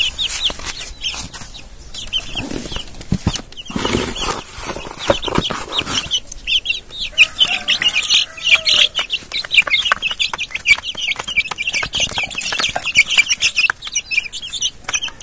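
Chicks are fed powdered ipil-ipil seeds, with busy high-pitched peeping and chirping close by, mixed with clucks and scattered pecking taps throughout.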